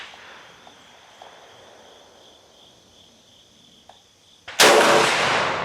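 A Centurion BP12 12-gauge bullpup shotgun fires a single loud, sharp blast with a lingering echo, following several seconds of quiet outdoor cricket chirping.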